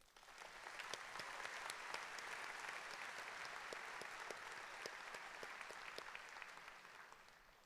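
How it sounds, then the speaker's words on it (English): A large audience at a university commencement ceremony breaks into continuous applause, a broad steady wash of clapping with a few sharper individual claps standing out, heard from some distance and fading slightly at the end. "Please join me now in acknowledging them with your applause."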